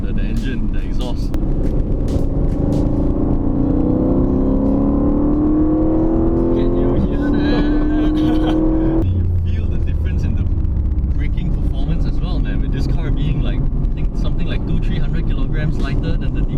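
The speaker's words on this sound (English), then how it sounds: "you can hear the car, the engine, the exhaust" An Aston Martin sports car engine revs and climbs in pitch, then drops off sharply, with wind-buffeted exhaust roar continuing close by, on a race track at Sepang.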